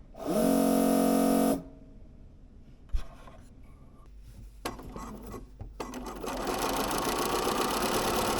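A sewing machine threaded with pink thread runs in a steady, loud mechanical whir for over a second, then stops; clicks, handling knocks and fabric rustles follow before a sustained broadband noise builds up.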